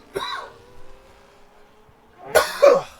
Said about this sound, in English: There's a cough.